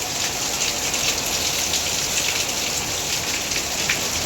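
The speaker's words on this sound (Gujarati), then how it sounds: "જો હવે હારામાં હારો વરસાદ આવે છે." Heavy rain pours down steadily around a small home, a dense, even roar of drops drumming on surfaces with no pauses.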